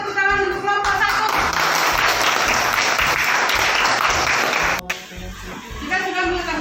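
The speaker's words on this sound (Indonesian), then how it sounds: "Berikan tepuk tangan untuk kelompok 1." An audience in a classroom setting applauds a student group, a loud, full burst of clapping that fills several seconds before it cuts off and speech resumes.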